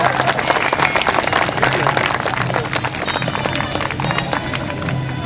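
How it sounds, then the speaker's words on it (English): Crowd applause at an outdoor British Invasion car show, steady clapping mixed with chatter and voices from a dense gathering, continuous and fairly loud throughout. "How about a round of applause for these guys?"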